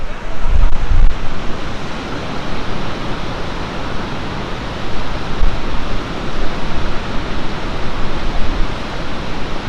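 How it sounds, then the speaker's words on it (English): A powerful, unbroken roar of Niagara Falls heard from Table Rock, Ontario, like dense white noise, with brief low buffeting from wind on the microphone. "Can you guys hear the falls?"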